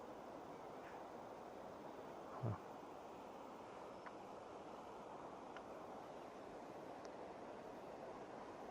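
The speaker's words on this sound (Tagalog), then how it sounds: "Meron tayong nakitang ilog dito. Lakas ng agos ng tubig, oh." Steady rushing river water roars continuously, broad and even, with a brief louder splash partway through and no voices, in Benguet.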